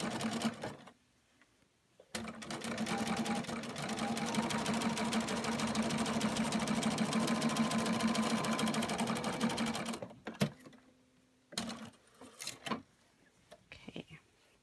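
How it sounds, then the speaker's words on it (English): A sewing machine stitching a quilt binding seam in one long continuous whirring run, close and fairly loud, stopping near the end with a few clicks and handling noises. "So now we've sewn our seam."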